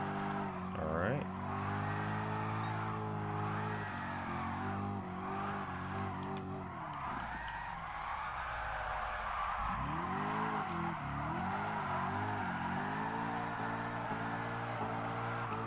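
A car in Gran Turismo Sport revs hard while drifting on the handbrake, its engine note climbing and dropping through gear changes, with tire squeal and skidding in the middle and steady loud engine drone throughout.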